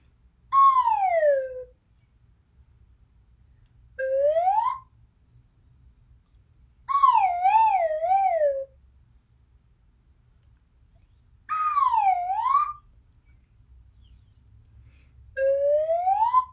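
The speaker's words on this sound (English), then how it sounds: "We're going to use our old friend, the slide whistle." A slide whistle plays five separate phrases with long pauses between them, each gliding up and down in smooth swoops, some wavering in quick bends, clear and close in an otherwise quiet room.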